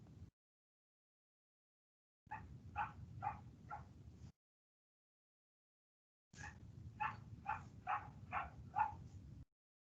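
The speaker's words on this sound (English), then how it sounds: "My dogs are outside barking like crazy." Several dogs bark outdoors in two bursts of rapid, overlapping barks separated by silence, sounding moderately near and fairly loud with no talk.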